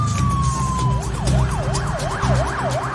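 A wailing ambulance siren sweeps up and down repeatedly, loud and close, over the rumble of traffic.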